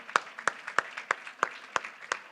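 Audience clapping at a Jain community gathering, seven evenly spaced sharp claps at a steady rhythm, moderately close and fairly quiet, with no talk over them.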